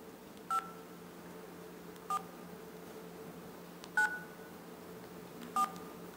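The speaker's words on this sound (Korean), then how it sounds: "유인 누나 휴대폰 앞자리가 5494래요" Four separate keypad tones sound on a mobile phone as the number 5494 is dialed, each a short clean beep with even gaps between them against a quiet hum.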